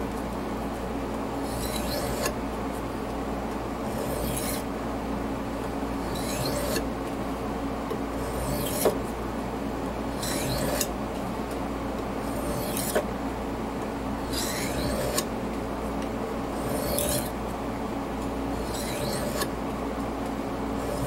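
A dull gut hook knife is drawn across a fluid-wetted grit stone in steady, faint rasping strokes, one roughly every two seconds, with no talk.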